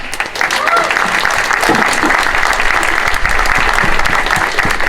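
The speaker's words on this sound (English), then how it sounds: "I think that they deserve a round of applause" Crowd applause at a Dublin march for schools equality, a dense, loud outdoor clapping that runs steadily for several seconds with faint voices mixed in.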